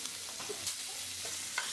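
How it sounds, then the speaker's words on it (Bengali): Hilsa fish pieces frying in oil with salt and turmeric, giving a soft steady sizzle with a few stirring scrapes, close and fairly quiet, no voices. "মাছটা ভেজে নিচ্ছি লবণ হলুদ দিয়ে।"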